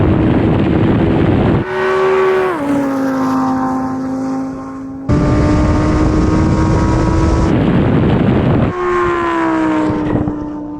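A Lamborghini Performante, a 700 hp GT-R and a Porsche Cayenne Turbo GT launch in a drag race, a loud, close engine roar that climbs in pitch through gears with abrupt shift breaks, heard from inside a car.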